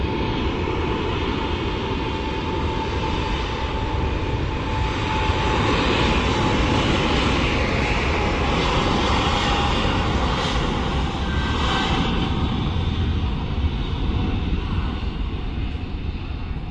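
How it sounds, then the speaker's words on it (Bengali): A Boeing 777 airliner bound for Riyadh roars steadily near Dhaka airport, a loud, continuous jet-engine rumble with a broad hiss that swells slightly midway and holds without a break. "আমরা দেখতে পাচ্ছি বিশাল একটি বড় বিমান, বোয়িং 777 মডেলের বিমান"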